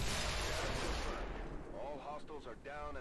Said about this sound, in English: We're immune to the explosion.